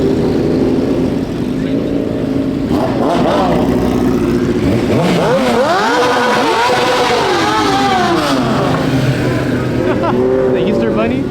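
A Yamaha R1 sports motorcycle revs at a nighttime rooftop car meet, its engine rising and falling in loud sweeping pitch over a constant crowd rumble of idling cars and nearby chatter.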